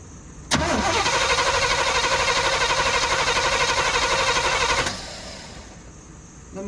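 A 1970 Oldsmobile Cutlass engine, unstarted for 12 years, catches and roars into a loud steady run for several seconds, then cuts off and fades, leaving quiet background.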